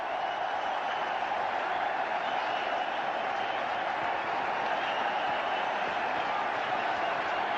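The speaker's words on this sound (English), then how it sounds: "the crowd are up as one to celebrate" A cricket Test-match crowd applauds Sachin Tendulkar's 10,000th Test run, a dense, steady roar of clapping and cheering that holds without a break.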